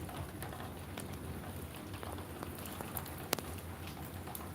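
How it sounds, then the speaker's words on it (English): Light rain falling outside, a faint, soft continuous patter with scattered drop taps and one sharper knock, heard at a distance without talk. "Oh, we got some rain going on."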